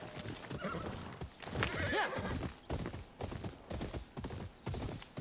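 A horse in the Ghost of Yotei video game gives a loud, close, descending whinny in the middle, with hoofbeats clopping steadily before and after.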